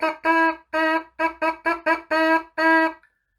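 A tenor horn player plays a rhythm of eight tones in the pattern 1, 2, 3, then a run of quick notes. The part has long and short notes and is clear and close, with no voices.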